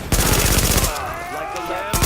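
Automatic gunfire rattles in a rapid burst during a firefight in the video game The Division, loud and close, then breaks off briefly before another short burst.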